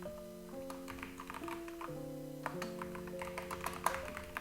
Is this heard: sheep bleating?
no